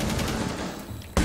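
Gunfire in the video game Rainbow Six Siege: a dense burst of rapid shots that runs nearly the whole moment, then breaks off, ending in one loud sharp crack.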